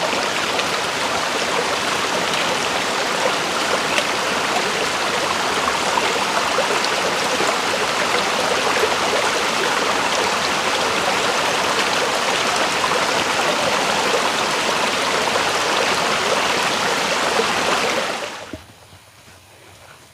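The Sukali Semurup mountain river rushes at 1600 m on the Permadi Guci trail up Mount Slamet, Java: a loud, close, steady roar of flowing water that cuts off abruptly near the end.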